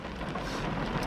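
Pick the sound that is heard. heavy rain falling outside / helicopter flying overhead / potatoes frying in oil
heavy rain falling outside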